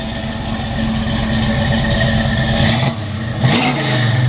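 A 1970 Chevrolet Chevelle SS 454 V8 engine idles with a low rumble, then revs up sharply and settles back, loud and close.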